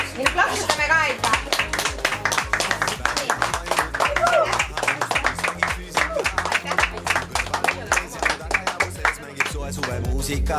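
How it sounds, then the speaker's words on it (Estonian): A group at a youth summer school claps together in brisk, continuous rapid claps, close and loud throughout, with voices mixed in. "Nüüd plaksutame ka ikka."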